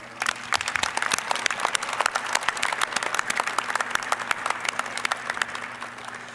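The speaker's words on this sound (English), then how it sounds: "please look up to your supporters in the crowd and give them a round of applause" Graduates at a commencement ceremony applaud their supporters in the crowd: sustained, crisp clapping from a large gathering, steady and fairly close throughout, with a faint hum underneath and no talk.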